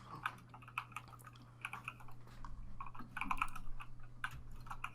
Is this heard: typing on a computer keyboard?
yes